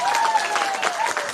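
Audience applause at a comedy show, brief scattered clapping with a tonal sound drifting over it, moderately loud.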